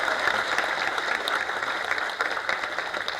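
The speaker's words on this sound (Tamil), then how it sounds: "நல்ல கைத்தட்டு கொடுங்க அவருக்கு" Audience applauding at a Tamil film audio and trailer launch, dense continuous clapping at moderate level throughout with no pauses.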